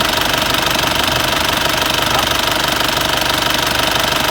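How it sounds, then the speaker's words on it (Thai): Loud, close 1995 Isuzu TFR diesel pickup engine idling, a dense rattling clatter that runs evenly throughout without any voices. "อ่า เสียงเครื่องยังเพาะเลย"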